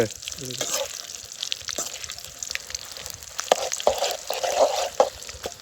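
Chopped onions fry in a pan during an outdoor fish-cooking feast, making a close, crackling sizzle with stirring and scraping sounds that grow busier toward the end.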